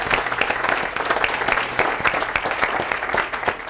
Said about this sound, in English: If we could just give everybody another round of applause